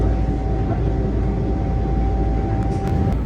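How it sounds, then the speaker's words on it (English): Plaza American passenger train standing at a siding in Syosset, a steady loud rumble with a sustained steady hum throughout and no talk. "here's the Plaza American train at a siding in Syosset"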